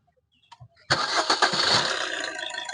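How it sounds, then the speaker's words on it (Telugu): A 2019 Suzuki S-Cross Zeta car engine cranks briefly with a few soft clicks, then catches on the first try and settles into a steady, fairly loud idle close by. "సింగిల్ సెల్ఫ్ స్టార్ట్ అవుతుంది"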